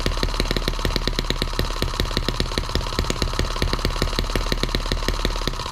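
A Chinese M17B engine runs at about 2,000 RPM with a loud, close, rapid pulsing beat whose firing sounds slightly uneven, with no talking.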